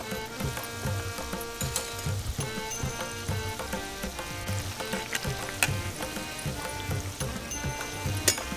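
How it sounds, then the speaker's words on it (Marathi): Spinach pakoras (palak bhaje) frying in a pan of hot oil over a wood-fired stove outdoors, a dense steady crackling sizzle with scattered pops, close and continuous with no voices. "आता तेल गरम झालंय, आता भजे सोडून घेऊ"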